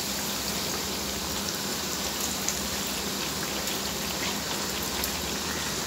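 Kerala banana fritters (pazhampori) deep-frying in hot oil, a dense, continuous sizzle and crackle that stays even throughout with no talking.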